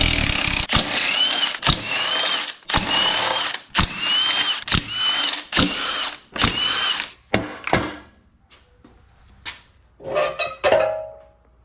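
Ratchet and power tool bursts removing nuts from the bottom end of a flood-damaged Corvair engine, a series of loud separate whirring runs with short gaps, then quieter clicks and clatter toward the end.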